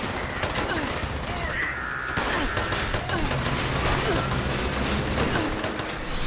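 Sustained gunfire in Fallout 76, rapid bursts of automatic shots crackling continuously at close range, with a voice talking over the shooting.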